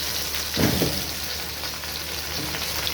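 Tomatoes drop into a pan of sautéing vegetables for Egyptian-style lentil soup, giving a quick burst of sizzle and frying hiss over a steady background crackle.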